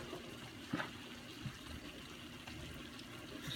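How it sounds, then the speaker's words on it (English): Milk is poured into a pan as a faint, soft trickle, quiet and steady, with a couple of small splashes. "add a little bit of milk"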